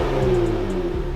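A 2018 Kia Stinger GT2 exhaust drones steadily with a deep, throaty note, holding a low rumble for about a second with a slight dip in pitch near the end.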